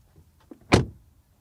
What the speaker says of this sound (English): Let's take a quick look at the door shutting sound.